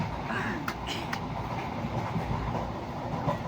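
A long-distance passenger train rumbles steadily along the rails on a 30-hour journey from South India, with a continuous low roar and faint rattling of the carriage heard from inside.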